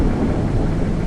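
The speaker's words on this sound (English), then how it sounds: "we have this beautiful weather with thunders and lightnings and strong wind" Thunderstorm weather with strong wind in a flight simulator on approach to Zurich, Switzerland: a continuous deep rumbling roar of wind and thunder, loud and steady throughout with no voices.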